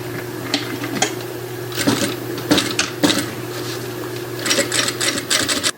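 A sewing machine topstitches the fabric lining of a triple cosmetic pouch in short, rattling bursts with brief pauses, close-up against a faint steady hum.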